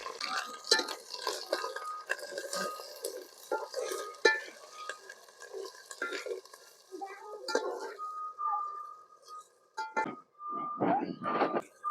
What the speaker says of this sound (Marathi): आलं लसूण चांगलं व्हायचं तळून दिलं की कांदा टाकून घेतो